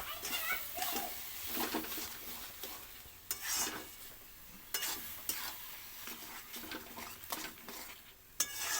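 Beetroot with salt being stir-fried (kosha) in a pan, a steady sizzle broken by repeated scraping and clinking of a utensil against the pan, with brief speech nearby.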